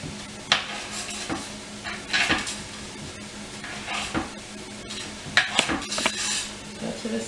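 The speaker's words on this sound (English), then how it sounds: "So I'm just going to slice those up." A knife slices sausage on a cutting board for cabbage soup, producing a few sharp, irregular knocks and scrapes over quiet kitchen background noise.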